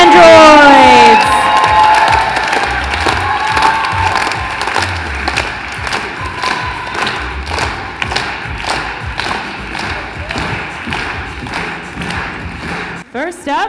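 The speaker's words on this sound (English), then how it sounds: "Put your hands together for the cast of Frankie Builds Androids." A theater audience cheers and applauds loudly for the cast of a play, a dense sustained roar of clapping and whoops that starts with a burst of shrill voices and then holds steady before cutting off.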